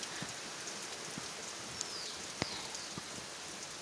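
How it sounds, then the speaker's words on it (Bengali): Steady rain hiss fills the space, with occasional sharper drips and taps standing out; constant wash of falling water, no voices. "সকাল থেকে প্রচুর বৃষ্টি হয় রে"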